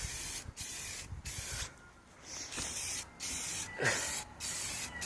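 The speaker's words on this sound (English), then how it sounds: "Check your spray paint first. Spray it first. See if it's spraying out properly." Steady hissing bursts of an aerosol spray paint can painting a BMX bike, several sprays in a row separated by brief pauses, loud and close.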